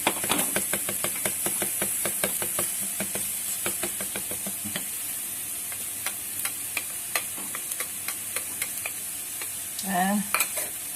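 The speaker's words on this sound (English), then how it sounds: "And then we throw in the garlic also." Garlic hits hot oil alongside lightly browned onion in a pan, giving a steady close sizzle with frequent sharp stirring clicks and scrapes and a brief clatter near the end.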